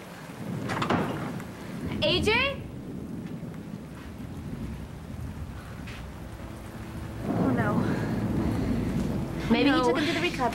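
Steady rain hisses under low rumbles of thunder while people talk over the storm at intervals.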